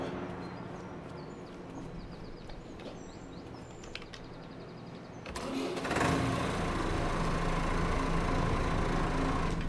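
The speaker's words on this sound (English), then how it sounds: "Oh, that does sound good, doesn't it, that tractor?" A tractor engine in the Farming Simulator 25 game idles steadily with a low drone, then rises louder at around five seconds as it revs up and keeps running.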